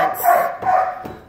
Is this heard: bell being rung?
no